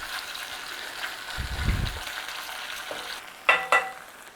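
Chicken pieces sizzle in a hot frying pan as they are stirred around, with a low scraping rumble midway and two sharp clatters near the end over the continuous frying hiss.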